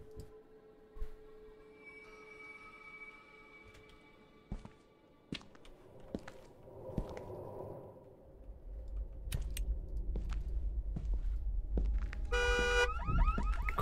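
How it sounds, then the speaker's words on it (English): A car alarm in the horror video game Visage chirps and wails in a short electronic burst near the end, following quiet clicks, thumps and a rising low rumble. "Kill the car alarm."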